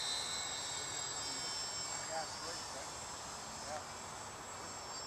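A radio-controlled Dynam Cessna twin-engine model plane comes in to land, its faint, steady high electric whine carrying over a windy outdoor background, with a few brief chirps overhead.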